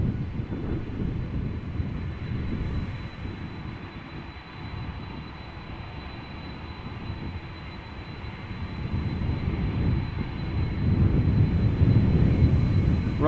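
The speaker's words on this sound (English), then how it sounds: "A330-200 from KLM, flight 765, going to Oranjestad in Aruba, about to take off." A KLM Airbus A330-200 airliner, eighteen years old, holding before takeoff at Amsterdam Schiphol, gives a low steady engine rumble that swells slightly near the end, heard alone without voices.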